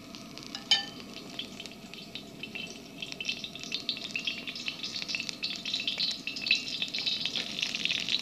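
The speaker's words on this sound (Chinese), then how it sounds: "那么这样子一把葱的话，你可以用一汤匙的油来煎。" A handful of scallions fries in about a tablespoon of oil, giving a continuous soft, crackling sizzle close by that slowly grows a little busier, with no one talking.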